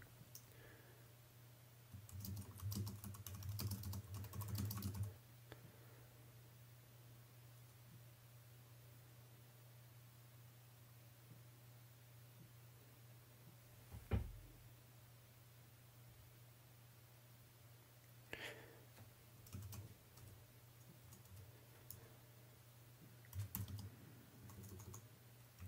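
Computer keyboard typing comes in short bursts of soft key clicks, separated by long quiet gaps over a steady low hum, with one sharper tap partway through and no voices.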